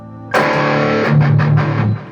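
An electric guitar played through a BOSS IR-200 with a slow distortion pedal in the second loop rings out a loud, sustained distorted chord, followed by a few shorter re-struck notes before it fades.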